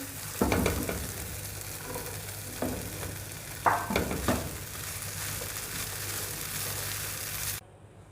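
Chicken pieces cook in a pot of spice masala made with cumin, dried coriander, red chili and black pepper, a steady sizzle broken by several louder scrapes and stirs of a spoon, ending abruptly.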